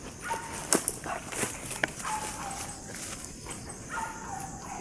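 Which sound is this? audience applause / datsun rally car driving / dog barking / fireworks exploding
dog barking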